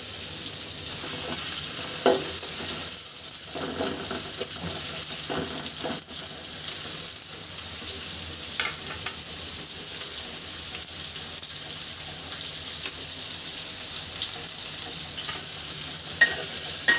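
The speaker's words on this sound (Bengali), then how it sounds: "পেঁয়াজটা খুব ভালো করে ভাজি করে নিব। এভাবে আস্তে আস্তে নাড়তে থাকবো" Chopped onions and sliced green chillies frying in oil in a pot, a continuous sizzle broken by repeated scraping strokes of a spoon stirring slowly against the bottom, close and unaccompanied by talk.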